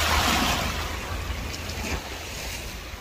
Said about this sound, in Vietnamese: sóng biển mạnh lắm, ở đây sóng hơi mạnh nha.